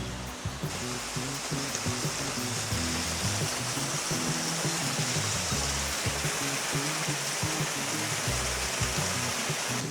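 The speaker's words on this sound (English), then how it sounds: "You can see another waterfall." Steady, broadband rush of a waterfall in a Devon coastal valley fills the whole stretch, a constant roar without pauses, fairly close and loud.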